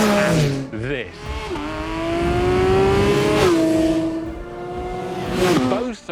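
A Porsche sports car engine revs hard and near, its pitch climbing through several gear changes with short dips between shifts, loud throughout.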